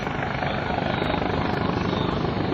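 An HH-65C Dauphin Coast Guard helicopter at the 2007 Wheels and Wings Airshow gives off a loud, steady rotor and turbine roar with a faint rhythmic beat, constant throughout.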